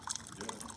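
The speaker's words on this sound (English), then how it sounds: "now let's test the hot water" Hot water trickles and splashes from the spout of a DeLonghi Magnifica S coffee machine, a faint, brief bubbling flow heard close and alone.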